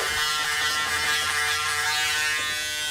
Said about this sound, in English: It didn't really take that long to touch it up with the dry shave.